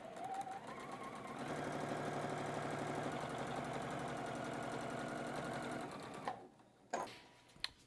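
Sewing machine stitching colorful patchwork fabric along a drawn line, a steady fast whirring needle chatter for about six seconds before stopping, followed by a few faint clicks and handling sounds.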